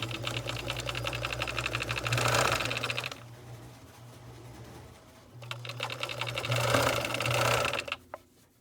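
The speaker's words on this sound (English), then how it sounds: "we'll do the second row of stitching and the raw edge will be encased" A sewing machine stitches a second row along the raw edge of a Christmas stocking, running in a steady whirring buzz for a few seconds, pausing briefly, then running again, close up with no talking.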